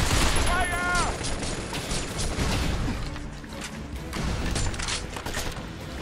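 Bursts of gunfire fill a firefight in the shooter video game Binary Domain, with dense crackling shots and clattering mechanisms running steadily throughout at close range.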